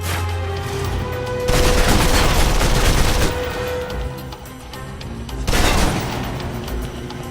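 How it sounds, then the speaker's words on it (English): Submachine gun fire in the video game Alpha Protocol during a close-quarters fight: loud, sustained bursts of rapid automatic shots in two heavy volleys, with continuous battle noise between them. "If you're trapped in close quarters with multiple opponents, the SMGs can help clear the room quickly"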